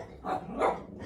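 A man imitates a dog, giving two short gruff barking bursts with a growling edge, close and fairly loud in quick succession.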